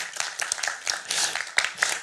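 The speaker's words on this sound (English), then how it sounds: "I think you can clap" An audience at a dummy book award ceremony applauding a winner, a dense patter of many hands clapping at moderate distance, steady for a couple of seconds.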